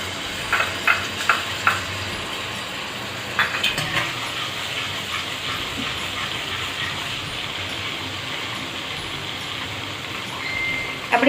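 Ginger-garlic paste sizzles in hot oil while sev usal is being cooked: a steady, fairly quiet frying hiss runs throughout, with a few sharp stirring clicks near the start and a brief scrape near the end.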